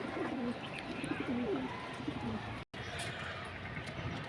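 Silver Bagha pigeons cooing close by in a loft, a run of soft, repeated low coos over light background hiss, with a brief instant of silence partway through.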